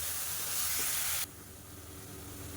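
Onion, ginger and garlic paste sautéing in a pan for a chicken curry: a loud steady sizzling hiss that suddenly drops to a quieter simmer partway through.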